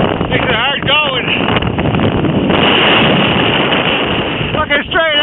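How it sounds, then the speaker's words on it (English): Strong, cold wind on the slopes of Cotopaxi mountain in Ecuador, roaring loudly and continuously against the microphone with buffeting gusts throughout. "The damn wind's blowing so hard, it's cold."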